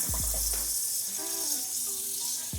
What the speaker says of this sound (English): What we're going to do is just rinse them under the water here.